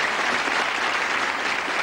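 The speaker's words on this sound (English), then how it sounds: "Give him a nice round of applause." A TV game show studio audience on Bullseye in 1984 claps in a short, even burst of dense applause with no voices over it.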